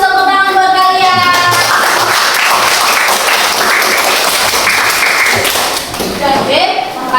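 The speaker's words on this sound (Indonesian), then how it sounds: "100 tepuk tangan buat kalian." A classroom of students breaks into loud, busy clapping mixed with voices and knocks, with chatter and a teacher's speech around it.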